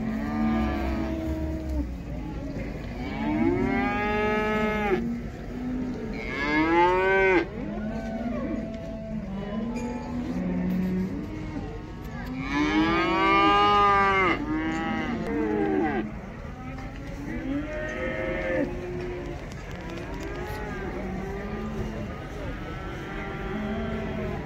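Cattle at a livestock market in Taraz low and moo repeatedly, with several long, loud calls rising and falling over a constant background murmur of the crowded market.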